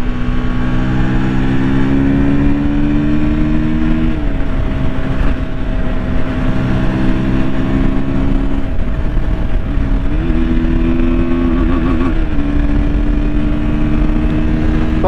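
A KTM 160 Duke motorcycle engine runs steadily at close range, its loud, even drone dipping and rising slightly in pitch a few times as the revs shift, with no voices over it.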